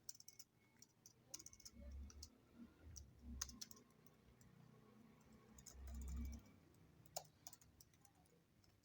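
Computer keyboard typed on during an HTML coding lesson: faint, scattered key clicks in uneven bursts over a low background hum.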